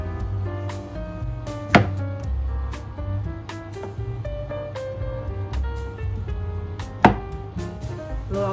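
A clove of garlic being minced with a knife on a cutting board: a run of fast, close, crisp chops in an irregular rhythm, with two sharper, louder strikes standing out among them.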